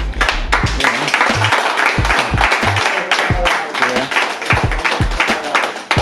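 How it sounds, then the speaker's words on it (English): A small group applauding supporters as their names are read out, irregular loud claps and taps close by with some voices mixed in. "so we're gonna applaud for the names them now"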